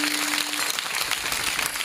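An audience at a kirtan claps together in a dense, continuous patter of hand claps that holds steady for a couple of seconds, with no speech.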